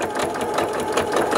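A sewing machine stitches small doll trousers, running back and forth in a steady, rapid mechanical whirr of needle strokes, close and continuous with no pauses.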